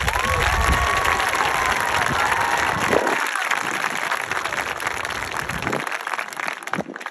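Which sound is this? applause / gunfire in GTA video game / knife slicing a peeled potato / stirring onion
applause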